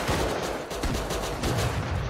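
Rust survival game gunfire: a dense, continuous wash of rattling shots and rumble, loud and smeared together without clear separate bangs, no talking over it.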